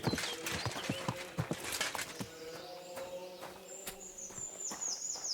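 Horse hooves clip-clop on a hard surface in an uneven walking rhythm in the game Kingdom Come: Deliverance II, with a faint whinny and a high chirping tone later on.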